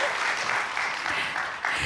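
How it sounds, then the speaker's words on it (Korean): Audience applause at the close of a church-hosted lecture series talk, a steady wash of many hands clapping, fairly loud and continuous with a slight dip near the end. "큰 박수 부탁드리도록 하겠습니다"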